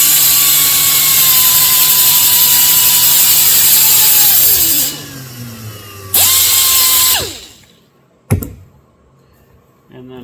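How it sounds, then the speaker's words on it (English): Power drill driving a screw into Buick body side molding, a loud close whine that holds, drops in pitch and stops, revs briefly again and winds down, followed by a sharp click. "I got the screw here in the drill bit. And then I take this here and just spin this sucker."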